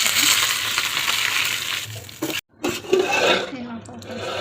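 Dried red chillies and curry leaves hit hot oil for a tempering, giving a bright, crackling sizzle close by with a short pause midway before the spitting resumes.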